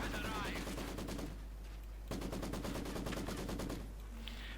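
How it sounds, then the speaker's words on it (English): Maxim machine gun fire in the real-time strategy game Company of Heroes 2, rapid rhythmic bursts of gunfire in two long volleys, fairly quiet, with brief game sounds between them. "he's being shot at by Maxim"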